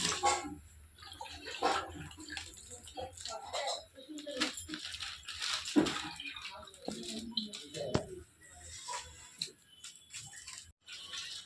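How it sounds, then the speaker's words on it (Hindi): Vegetables, including cauliflower, being washed in water in a vessel, with close splashing, sloshing and clinking knocks in irregular bursts amid pauses. "पानी भर भर के सब सब्जी को बहुत अच्छे से, एक बार, दो बार, तीन बार, बहुत अच्छे से सब्जी को मैं धोना चालू कर दी"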